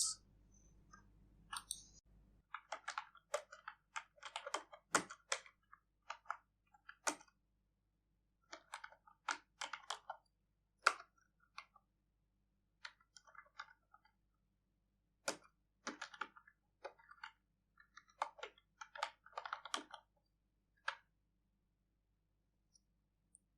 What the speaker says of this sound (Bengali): এন্টার প্রেস করছি। Enter enter